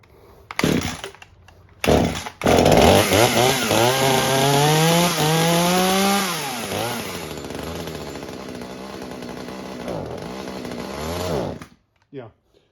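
A mini chainsaw with a fuel leak and a carburetor set for adjustment revs up and down loudly and close by, its engine pitch rising and falling in sweeps before cutting out near the end.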